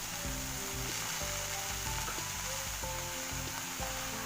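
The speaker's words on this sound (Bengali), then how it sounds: "লাউগুলো ছেড়ে দিলাম। এবার লাউটা নাড়াচাড়া করে" Bottle gourd fries in a pan for a shrimp lau ghonto, giving a broad steady sizzle that stays close and even, with faint stirring under it and no talking.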